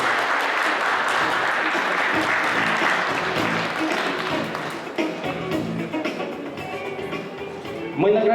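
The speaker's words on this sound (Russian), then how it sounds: "Прошу встречать и аплодировать." Sustained clapping from a large audience at a youth volunteer forum awards ceremony, steady and dense, thinning slightly toward the end with some shuffling and bumps.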